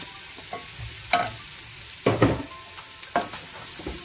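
Cubed potatoes with chermoula spices are stirred in a pan, giving four or five short scraping strokes at uneven intervals over a faint background, with no talking.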